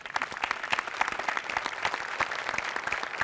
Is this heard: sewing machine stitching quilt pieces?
no